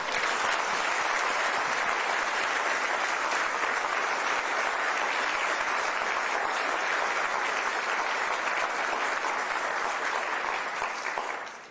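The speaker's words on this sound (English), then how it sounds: "Please, another round of applause." Sustained applause from a large crowd, a dense, even roar of clapping that holds steady throughout before tapering at the very end.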